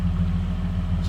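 A 1966 Dodge Dart's engine idles steadily close by, throbbing with a low rhythmic rumble that holds constant throughout, no voices.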